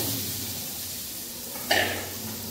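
Potato pieces dropped into hot oil tempered with cumin seeds and bay leaf, a steady low sizzle that flares into a sudden louder hiss and crackle as they hit the pan.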